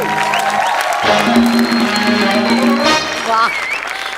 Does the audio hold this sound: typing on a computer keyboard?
no